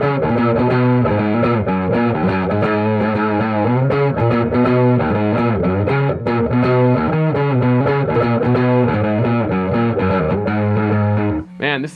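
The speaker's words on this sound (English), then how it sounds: "Man, this distortion sounds great." An electric guitar runs through an amp cranked to ten with its wattage set very low, giving a heavily distorted, saturated tone; sustained chords and riffs play continuously and loudly with brief gaps near the end.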